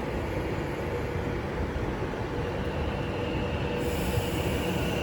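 Class 390 electric train at Milton Keynes Central station, a continuous loud rumbling roar of the passing or arriving set with a faint rise in hiss near the end.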